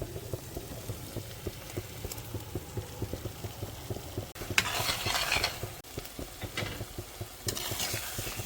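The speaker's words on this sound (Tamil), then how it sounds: "சால்ட் இதெல்லாம் போட்டு நல்லா வதக்கிடணும்" Steady sizzling of brinjal and vegetables frying in a pan with oil and salt, with regular scraping and stirring strokes throughout and a few louder bursts of hiss; no talking.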